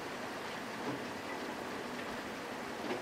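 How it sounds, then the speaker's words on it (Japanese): Rain falls steadily on the roof of an old school building, a dense, even hiss of drops that keeps going without a break for the whole stretch. "雨音が旧校舎の屋根に当たる音を聞いてると"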